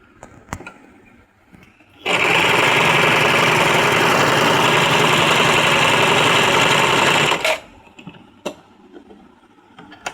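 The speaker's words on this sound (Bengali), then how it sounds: "এবার সি দিয়ে সেলাইটা করে দেখাবো" A Singer SM024 sewing machine stitches at a fast, even pace, giving a loud, close, continuous mechanical whir for about five seconds, with quiet handling clicks before and after.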